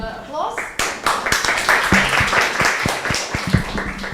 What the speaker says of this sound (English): Let's give Paula another round of applause.